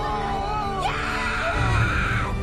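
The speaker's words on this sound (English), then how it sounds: "Weiju screams here" A woman screams long and shrill while hanging on for dear life from a crane tower, her voice rising and cracking over constant loud background noise.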